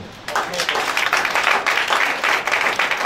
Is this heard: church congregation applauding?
yes